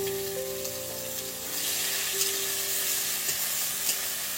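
Garlic cloves go into hot oil with whole cloves in a pan, giving a bright, continuous sizzle that grows louder partway through, heard close with no voices.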